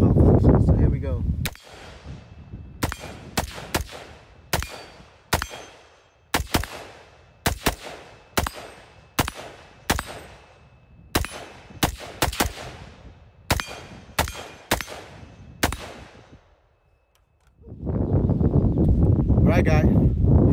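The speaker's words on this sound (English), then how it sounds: "we're gonna kind of run it, see how well it handles on the kind of rapid fire" Rapid shots from a rifle fitted with an Armaspec XPDW Gen2 stock and SMB buffer ring out one after another at close range, sharp cracks in quick irregular bursts, with talking before and after.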